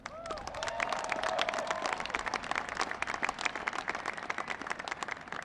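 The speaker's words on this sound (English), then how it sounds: "Give them another round of applause" At the 2016 U.S. Air Force Academy graduation, the crowd gives a sustained round of applause for the graduates' families. The dense clapping is moderately loud, with a few cheers and whistles early on.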